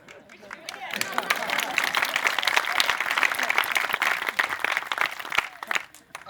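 An outdoor crowd at an urban farm dedication claps for farmers, a steady burst of many hands with a few sharper individual claps standing out, mixed with faint crowd murmur.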